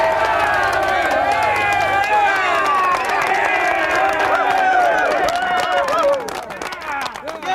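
A crowd at an oil-additive engine challenge whoops, cheers and chatters excitedly around an engine run for 500 hours without oil, loud and close, thinning out toward the end.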